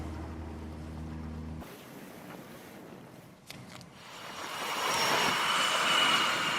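F/A-18 Super Hornet fighter jets prepare and launch from the aircraft carrier USS Abraham Lincoln. A low, steady engine drone cuts off, then broad jet roar swells and grows louder toward the end, with no talk.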